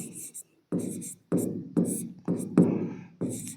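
Chalk scratches across a classroom board in short bursts, five or six separate strokes with brief pauses between them, loud and close, while a teacher talks under the writing.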